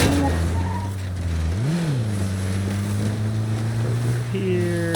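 A fast car in the State of Decay 2 video game drives with a steady, loud engine drone that swells briefly in a rev, then holds on as a continuous hum.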